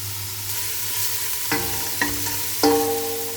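Food sautéing and being stirred in a pan, a soft sizzle under a low background hum, punctuated by three or four distinct scraping stirs and clinks close by.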